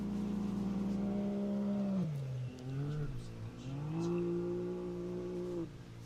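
An Ultra4 off-road race car engine drones steadily at a fixed pitch, then dips and revs up again as the car works through the course. The engine note is moderately distant and sustained.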